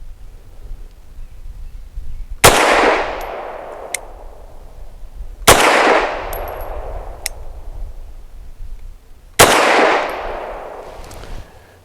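A Bersa TPR 380 pistol fires +P ammunition three times, each shot a loud, sharp crack with a ringing outdoor decay, spaced a few seconds apart, with no talking.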